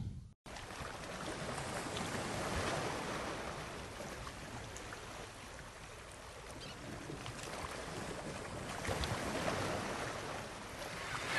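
A ship sets sail on ocean waves: a steady, broad rush of water that swells and eases without pause for the whole stretch, with no voices.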